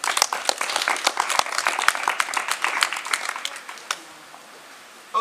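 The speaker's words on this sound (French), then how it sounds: "vous pouvez l'applaudir" A small cabaret audience gives a performer a short round of applause, scattered close hand claps that thin out after about four seconds before a brief sound at the end.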